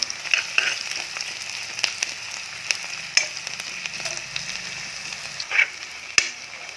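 Ginger paste frying in a pan with half-fried onions: a steady, fairly quiet sizzle with occasional sharper crackles and spatters, no voices.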